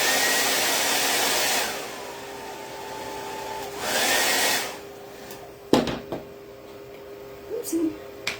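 A hair dryer blows on wet chalk paint on a small wooden star tray, with a loud, steady whooshing roar in two bursts separated by a quieter pause, then soft handling clatter.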